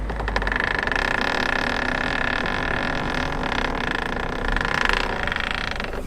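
Mazda ND1 Miata tire rubbing against the bodywork while reversing, a close, steady grinding scrape over low engine hum and creaks, continuous throughout.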